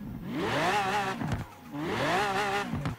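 A Dodge car in the racing game Forza Horizon 4 revs twice, each pull rising in pitch and then dropping away, loud and close with no voices.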